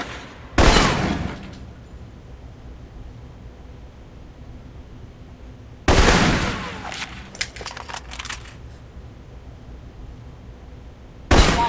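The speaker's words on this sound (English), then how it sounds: "For long-range encounters, the assault rifle's the key" Assault rifle fire in Alpha Protocol: three loud sharp bursts of automatic shots, spaced several seconds apart, with scattered follow-up cracks after the second burst and low ambient noise between.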